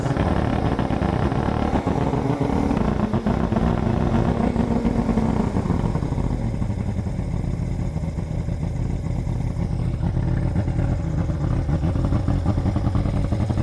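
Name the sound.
bass boat outboard motor running during winterizing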